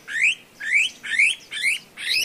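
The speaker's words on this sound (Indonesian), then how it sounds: "mantap kan burung kita" Captured forest bird in Lombok chirping close by, five bright rising tweets repeated at an even, steady rhythm with short pauses between them.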